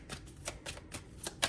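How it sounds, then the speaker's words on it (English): Soft, quick card shuffling in several short riffling bursts, fairly close and quiet, with no talking. "Now they want me to shuffle more of these cards"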